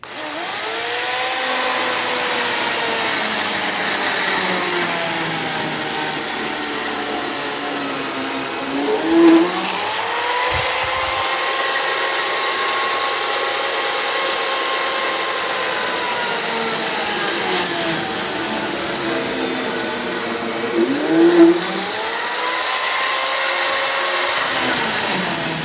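A German chain mortiser cuts a mortise in timber at a timber frame shop, a loud continuous buzzing whine that rises and falls as the chain plunges through the wood, close and uninterrupted with no speech.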